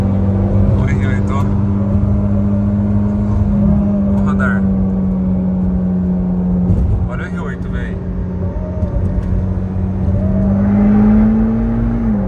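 Sports cars roll past at a car enthusiast event, engines humming steadily with a sustained drone and occasional swells, heard close by under continuous conversation.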